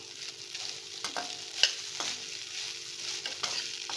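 Rice being stirred into hot spiced ghee in a pan, with soft scraping strokes and a light steady sizzle, plus a few sharper clinks of the spoon against the pan, all close and without talk.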